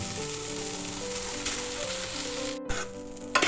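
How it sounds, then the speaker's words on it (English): Rice stirred and fried with vegetable masala in a pan for egg fried rice, giving a steady close sizzle with scraping stirs throughout and a brief break near the end. "Now we add the rice in small quantities, which would help us to mix the masala of vegetables along with the rice."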